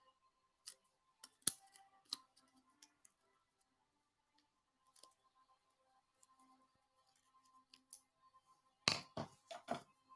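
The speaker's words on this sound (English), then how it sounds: "I need to cut out a little slot for the tag in this" Scissors cut a small slot for a tag in a craft piece, sparse sharp snips and clicks at close range, then a quick burst of several cuts near the end, with quiet gaps between.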